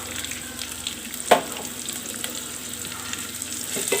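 Garlic, ginger, shallots and green chili sauté in hot oil for a beef pickle, giving a close, even sizzle with one sharp spatula clank early on.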